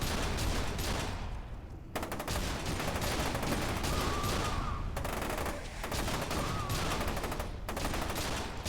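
Dense, continuous gunfire in the game F.E.A.R. 2, rapid automatic bursts layered over one another with brief gaps, loud and close throughout, with no speech over it.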